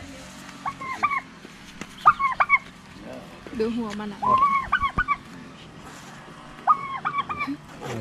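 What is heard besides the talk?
small chicken clucking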